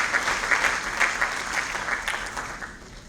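Sustained applause from the audience fills the hall at the opening ceremony of the first lawyers' congress of the UEMOA region, a dense steady patter of many hands at moderate level with no voices over it.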